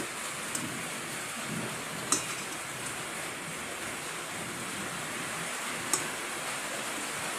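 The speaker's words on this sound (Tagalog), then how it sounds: "kung naririnig nyo guys, yung ingay is umuulan sa labas" Steady, hissing rainfall outside fills the background, with a few sharp ticks and drips standing out over the constant wash.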